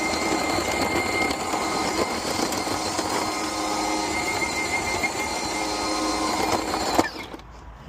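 An EGO POWER+ cordless earth auger drills a hole in the ground with a steady, close electric motor whir and grinding that runs for about seven seconds, then cuts off abruptly.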